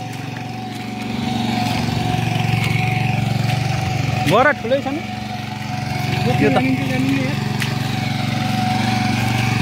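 A tractor engine chugs loudly and continuously while ploughing a field for rice planting, a steady close rumble, with a voice speaking briefly over it midway.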